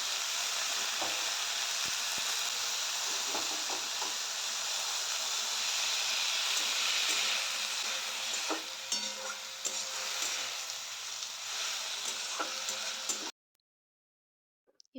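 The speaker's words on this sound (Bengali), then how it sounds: "এরপর ধুয়ে রাখা পালং শাকটা এর মধ্যে দিয়ে দিলাম।" Washed spinach sizzles and is stirred in a pan for a vegan moong dal with spinach, giving a steady broadband frying hiss with scraping stirs throughout, then stopping abruptly near the end.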